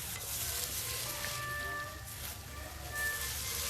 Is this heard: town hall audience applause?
no